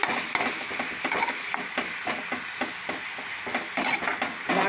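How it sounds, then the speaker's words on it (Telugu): Spices and chilies stirred and frying in a pan, a steady sizzle broken by repeated spoon scrapes against the metal in an uneven rhythm, close and moderately loud with no talking. "ఇలా కలుపుతుంటే అన్ని వాటికి కూడా వేగిపోతాయండి చక్కగా"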